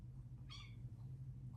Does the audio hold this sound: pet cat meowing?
yes